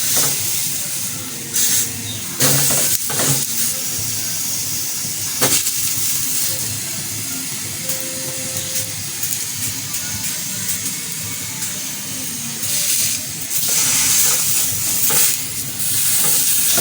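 Eggplant roasting on a hot tawa griddle for baingan bharta, giving a steady near sizzle and hiss with a few sharp clicks and scrapes, alone without talk.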